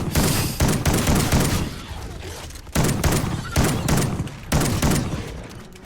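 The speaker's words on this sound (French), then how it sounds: "Je trouve pas très efficace ce fusil à pompe et il a très peu de munitions." Shotgun blasts from a Call of Duty video game ring out. Four heavy, booming shots come at roughly one-second spacing, each with a long, rumbling tail, and all are loud and close.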